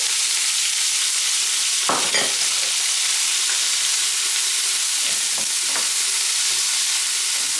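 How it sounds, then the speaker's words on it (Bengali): Prawn heads sizzle in hot mustard oil with dried red chillies, a steady broadband hiss broken by a few sharp crackling bursts and spatters as they hit the pan, close and loud, with no talking. "তারপরে চিংড়ি মাছের মাথাগুলো দিয়ে দেব। সুন্দর একটা ঘ্রাণ বেরিয়েছে সরিষার তেল থেকে।"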